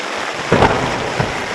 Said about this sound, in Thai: ฝนตกอย่างหนักนะครับ